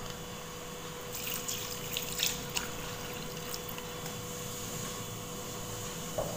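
Water pours into a mixer jar while crab masala is being made, a soft continuous splashing trickle with a few clinks near the middle, fairly quiet and close.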